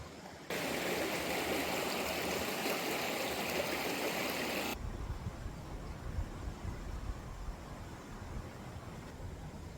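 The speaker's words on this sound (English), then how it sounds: "normally it could have been quite a challenge to cross this river, but today it's just teeny tiny" A small river runs through Coromandel Forest near Moss Creek, a steady rushing flow that is loud at first, then drops to a softer, continuous babble.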